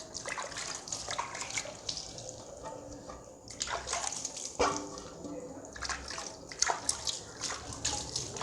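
Dishes being washed under a running kitchen tap, with water splashing steadily and utensils clattering now and then, up close and fairly loud, while people talk nearby.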